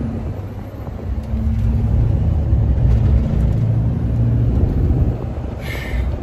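A car drives past on a road during a wildfire evacuation, a steady, loud, close rumble that lasts throughout and swells slightly midway.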